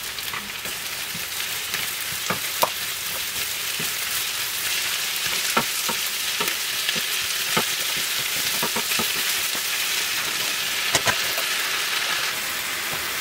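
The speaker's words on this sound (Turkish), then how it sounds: "Üzerine doğradığım ıspanakları alarak sulandırmadan ıspanakları kavuruyorum." Spinach and a generous amount of chopped dry onion sizzle and crackle steadily in a pan, with occasional sharp pops and scrapes from stirring throughout.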